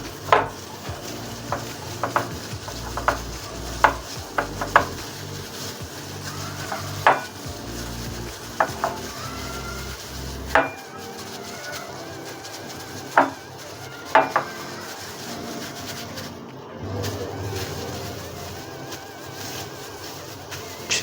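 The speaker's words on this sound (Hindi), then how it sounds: "तो अच्छे से मिक्स करेंगे।" Chicken lollipop marinade with chili powder and salt is mixed in a bowl: a spoon scrapes and clinks against the sides in irregular, sharp taps over a soft, steady background, close and alone with no talk.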